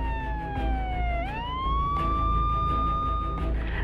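An ambulance siren sounds in the Polish emergency-dispatch video game Na Ratunek 112. A continuous electronic wail dips and then sweeps back up to a steady high tone, loud and close, with no talk over it.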